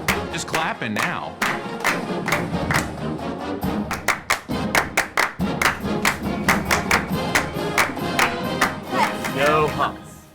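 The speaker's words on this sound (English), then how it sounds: "Just clapping now." Band members clap a steady rhythmic beat, sharp close hand claps repeating about twice per second over a background of crowd murmur and voices.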